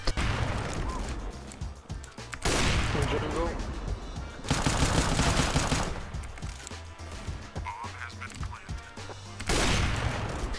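An AWP sniper rifle fires in CS:GO on the Mirage map around the B site, with several loud, sharp game gunshot bursts separated by quieter stretches of background game noise.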